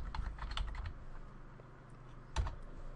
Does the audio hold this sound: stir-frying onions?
no